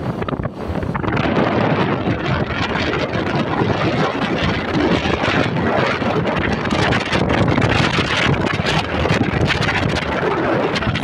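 Strong, steady wind roars across the microphone up on the Malico–Santa Fe mountain road, a dense continuous rush with gusty buffeting that never lets up.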